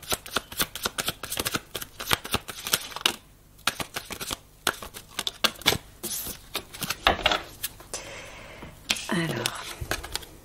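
Tarot-style cards shuffled for a card reading, dense rapid riffling and flicking bursts close by, with pauses between rounds and a brief sliding rustle near the end.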